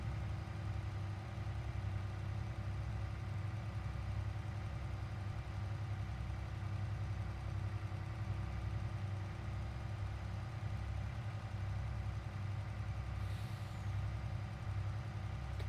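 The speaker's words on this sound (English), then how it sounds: "I like this Mack truck a lot." Mack truck in Farming Simulator 22 runs with a steady low engine drone, idling and rumbling continuously throughout, with a brief airy hiss near the end like an air brake release.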